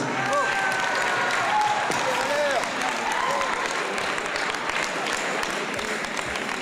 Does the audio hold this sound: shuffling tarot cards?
no